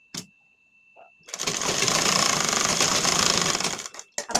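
A sewing machine runs a steady burst of stitching along the shoulder seam of a lined blouse, about half an inch in, close and loud for a couple of seconds, with quiet handling clicks before and after.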